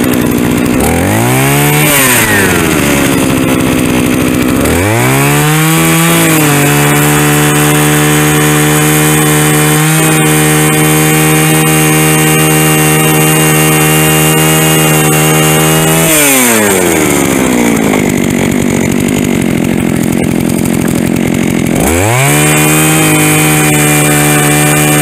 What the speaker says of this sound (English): got the gas auger running just in time.